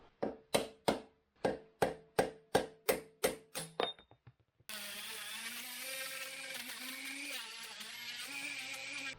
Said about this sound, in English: we'll just go side to side and walk it out with a hammer